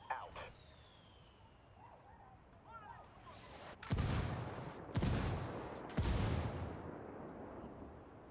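An indirect-fire artillery strike in Ghost Recon Wildlands lands as three heavy, booming impacts spaced about a second apart, loud and close. Faint radio chatter and a siren-like whine come first.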